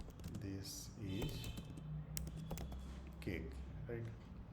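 Computer keyboard typing during a PHP coding lesson, a run of light clicking keystrokes that sits under steady nearby talking.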